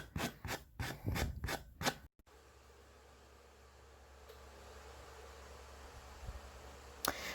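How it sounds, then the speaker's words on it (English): A handful of quick rasping strokes of sanding plywood edges with a sander, close up, then a quiet hum with a faint scrape near the end. "take your sander, go ahead and go around those edges, get rid of any splinters"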